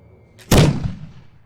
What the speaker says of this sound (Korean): 어디선가 총성이 들려오고